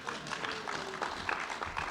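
Brief scattered clapping from an audience at a politics panel discussion, a light patter of claps lasting under two seconds.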